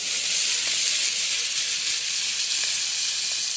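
Chow mein noodles sizzling in a hot pan with chopped tomato and green chilies, a loud, steady, close hiss lasting the whole time with no talk.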